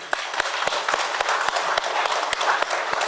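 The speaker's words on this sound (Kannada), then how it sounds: "ಬಾಬಾ ಭಕ್ತರ ಆತ್ಮಗಳಿಗೆ ಕೃತಜ್ಞತೆಯಿಂದ ಒಂದು ಚಪ್ಪಾಳೆ ಹೊಡೆಯೋಣ" Short burst of audience applause at a spiritual talk on Shirdi Sai Baba, a modest group clapping in a brisk, fairly even rhythm for about three seconds, heard at moderate level.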